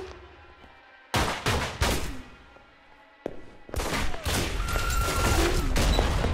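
Rapid bursts of gunfire in the video game Alpha Protocol: two loud volleys, a short lull, then sustained shooting that carries through to the end.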